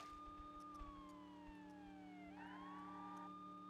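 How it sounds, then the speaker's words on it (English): A wailing police car siren in the video game True Crime: New York City sweeps down and back up in pitch, steady over a low rumbling engine, with no talking. "Let you hear the siren for a little bit."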